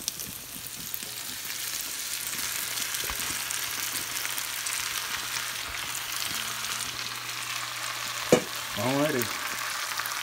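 Chopped tomatoes for shakshouka simmer and sizzle in an open pan, a steady frying hiss broken by occasional scrapes and clinks of a utensil stirring, close by with no voices.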